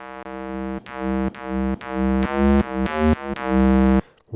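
A soft, smooth synth tone from a Roland MV-8800 plays a run of about ten sustained, harmonically rich notes, each re-struck in a steady rhythm before ending abruptly, close and alone with no talk.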